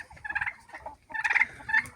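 Blue slate turkeys gobbling close by on a farmyard, two or three rapid, warbling gobble calls in quick succession over faint background noise.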